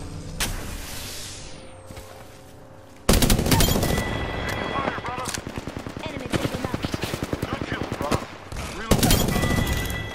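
Prowler gunfire in Apex Legends crackles in rapid bursts, with a steady run of sharp shots dominating the middle stretch and more bursts near the end, mixed with game effects and some talk.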